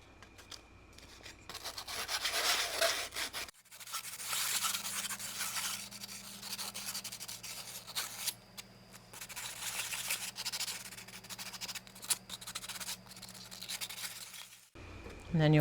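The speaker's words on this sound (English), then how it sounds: "we're just going to take our sandpaper and we're just going to scratch all along the top and all along the bottom" Sandpaper scuffs the top and bottom edges of a dollar store tray, producing a long, steady run of close, dry rubbing strokes that stops abruptly near the end.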